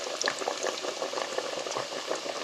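Breaded pork cutlets fry in hot oil, giving a steady, fairly quiet bubbling sizzle with scattered crackles throughout, with no voices.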